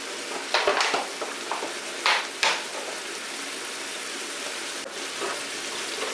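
Mutton fries in a pan with cumin powder, giving a continuous bright sizzle broken early on by several sharp scraping stirs, then settling into an even hiss.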